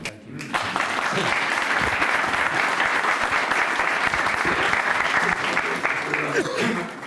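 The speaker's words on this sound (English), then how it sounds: "Give a round of applause." Audience applause after a memorial talk remembering a legend, a sudden burst of steady clapping from a crowd that holds evenly for several seconds before tapering, with voices faintly under it.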